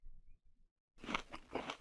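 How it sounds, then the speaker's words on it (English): An old-school crunching eating effect from the video game Might and Magic VII, a burst of several crisp, close crunches after a brief quiet gap. "That old school crunching sound that accompanied every single instance of eating in"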